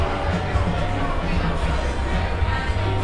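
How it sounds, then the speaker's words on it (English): Crowd at Disney Springs, Orlando: a steady, dense babble of many voices blending into a continuous hubbub, moderately loud and unbroken throughout. "Back into the crowd."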